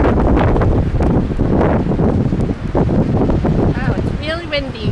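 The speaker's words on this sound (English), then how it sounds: "Oh, it's really windy." Strong wind buffets the microphone throughout at an alpaca ranch, a constant roaring rumble, with a voice faintly heard beneath and a brief warbling sound near the end.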